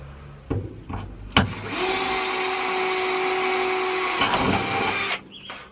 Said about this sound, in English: Probably best to do a pilot hole first